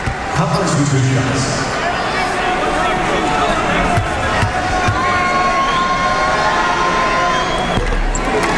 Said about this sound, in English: Cade Davis goes to the bench to a well-deserved round of applause